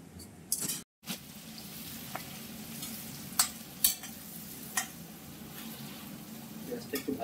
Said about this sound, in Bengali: পেঁয়াজটা একটু ভাজা ভাজা হোক